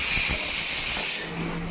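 A pressure cooker cooking dal lets out a loud, hissing jet of steam with a shrill whistle tone, then drops to a quieter hiss toward the end, close by and without speech.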